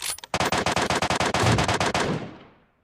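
Video game gunfire in PUBG, fired as a rapid string of about twenty sharp, loud shots that stop abruptly and leave a fading ring of reverberation.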